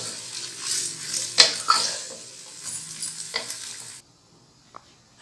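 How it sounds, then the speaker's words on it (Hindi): Carrot, capsicum and other vegetables sizzle loudly as they fry in a pan for zinger rice, with a utensil stirring and scraping close by before the sizzle suddenly drops away to near quiet. "इस सारी वेजिटेबल को हमने अच्छा सा थोड़ा सा फ्राई करना है"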